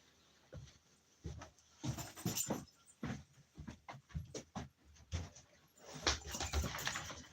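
A dog pants and snuffles close by in short uneven bursts, with occasional soft whimpers and rustling.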